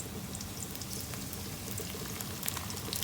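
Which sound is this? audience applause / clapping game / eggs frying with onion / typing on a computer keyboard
eggs frying with onion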